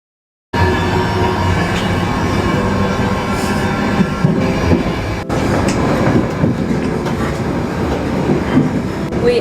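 Train pulling into a station platform and running past, a steady loud rumble of wheels and carriages with clickety-clack and faint squeals throughout, close and continuous.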